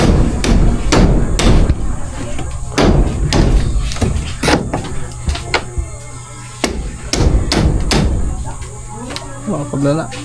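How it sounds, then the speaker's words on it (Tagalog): A hammer strikes wood during the fitting of a ceiling in a room, with about a dozen sharp, close knocks in irregular bursts while voices talk in the background. "Martilyo."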